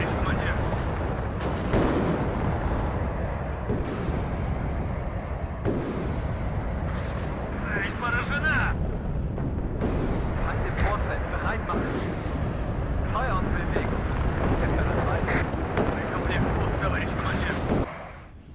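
Rockets launch and detonate in a Cold War real-time strategy battle in WARNO multiplayer, a dense, loud, continuous rumble of blasts and booming impacts that never lets up.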